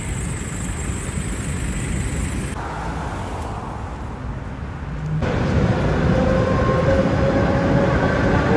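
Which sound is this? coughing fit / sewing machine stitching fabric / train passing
train passing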